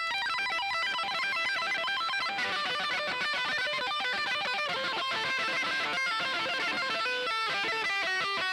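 Rapid electric guitar tapping from a solo, a dense, fast, continuous stream of bright repeating notes at steady loudness.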